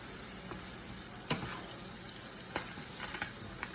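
Ground turkey fries quietly in a pan with a faint, steady sizzle, broken by a few sharp clicks and scrapes from stirring.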